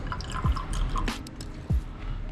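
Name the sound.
gasoline being added to a water test tube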